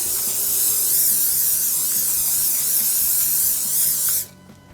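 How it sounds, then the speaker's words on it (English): A steady, loud aerosol hiss of cooking spray runs continuously for about four seconds, then cuts off abruptly. "Gonna want to liberally spray it"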